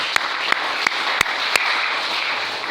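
A church congregation breaks into steady, sustained applause, a dense wash of clapping with a few sharper individual claps popping out, and no talk over it.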